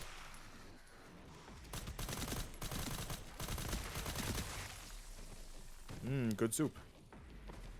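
Mortar fire in the Resident Evil Requiem video game gives a rumbling barrage of blasts and impacts at moderate distance, followed by a brief harsh electronic warble. Someone speaks briefly near the end.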